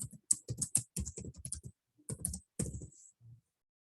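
Rapid keystrokes on a computer keyboard entering a username and password at a login prompt, close and crisp, in quick bursts separated by short pauses, ending with a lone final key press.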